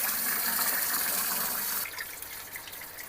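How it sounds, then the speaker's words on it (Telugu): Running water pours and splashes steadily as rice is washed for Hyderabadi dum biryani, loud and close at first, then thinning to a quieter trickle and slosh near the end. "టూ టైమ్స్ అయితే నేను రైస్ని అయితే నీట్గా కడిగేసుకున్నాను"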